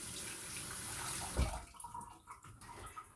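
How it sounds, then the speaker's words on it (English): A tap runs steadily while a hand is washed under it in a kitchen during cookie baking, the water flow easing off and turning to scattered drips and splashes. "Wash my hand here."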